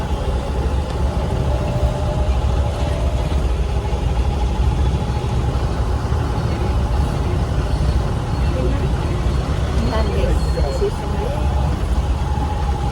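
Steady low engine rumble and idling traffic noise surround an auto-rickshaw stuck in city traffic, a continuous drone with occasional brighter horn-like tones, and people talking faintly within.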